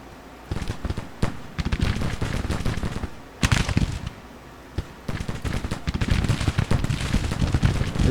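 Musket and cannon fire in the American Civil War strategy game Grand Tactician, crackling volleys and scattered booms rolling in dense bursts with short gaps between them.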